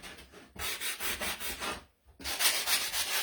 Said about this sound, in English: I didn't think about how I was going to sand inside this guy because I don't really have a small sanding block